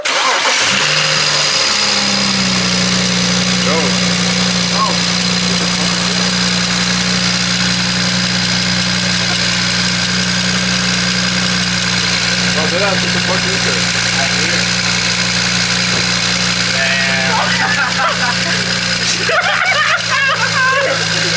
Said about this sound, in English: Someone start the car.